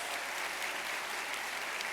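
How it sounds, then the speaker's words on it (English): Awards ceremony audience gives sustained applause for supporters at an education awards event, a uniform wash of many hands clapping, moderately quiet and unbroken. "Give them all another round of applause"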